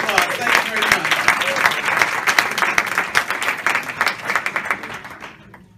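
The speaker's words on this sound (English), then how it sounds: "A big round of applause." A concert audience applauds a bass player and vocalist, a dense burst of clapping that stays strong and then fades out near the end, with a voice briefly heard over it.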